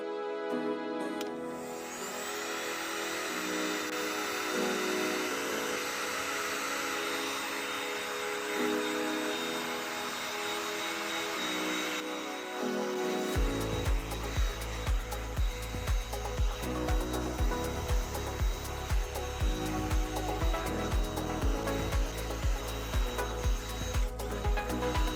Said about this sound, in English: So let's get a heat gun and get rid of that